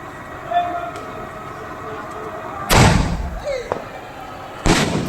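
Firecrackers bursting outdoors at a Kali Puja temple celebration: two sharp, loud blasts a couple of seconds apart, each with a crackling tail, over a steady background murmur of a crowd.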